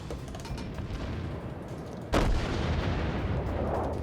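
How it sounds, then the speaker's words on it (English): Battleship firing its broadside in the World of Warships naval combat game: rumbling battle noise, then one sudden heavy boom followed by a sustained roar, loud and close, no talking. "There goes all of my broadside."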